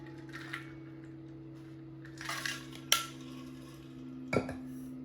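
Ice cubes rattling inside a water bottle while someone drinks, heard as a few faint clinks and short rattles spread across a quiet room with a low steady hum underneath.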